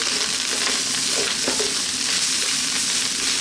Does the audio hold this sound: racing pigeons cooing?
no